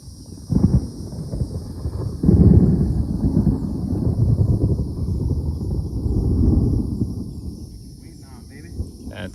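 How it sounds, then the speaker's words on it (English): Low, rumbling thunder rolls on for several seconds under a steady high insect-like whine, rising and fading like a distant storm over a primitive campsite. "That's lightning and thunder rolling through."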